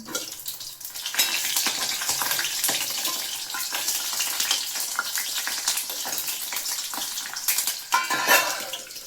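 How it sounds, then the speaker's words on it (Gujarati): Green chillies fry in hot oil in a pan, a loud, continuous sizzle with spattering crackles and occasional scraping stirs, briefly quieter near the start and toward the end, with no speech. "પહેલાં તો આપણે મરચાં તરી લઈશું"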